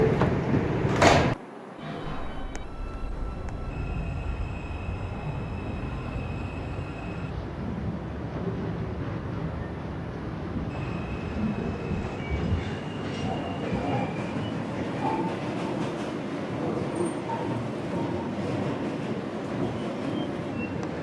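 A New York City subway 4 train running toward Woodlawn, a continuous loud rumble and rail roar with faint whining tones, heard from inside the car, opening with a brief sharp burst before the steady ride sound.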